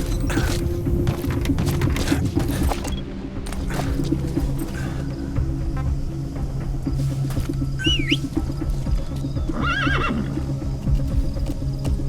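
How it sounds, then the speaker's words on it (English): Horse in the stealth game Metal Gear Solid V whinnies twice over a loud, continuous bed of hoofbeats and game ambience, with no speech. "Use your horse."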